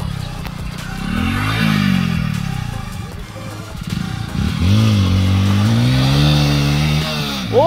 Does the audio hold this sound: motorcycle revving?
yes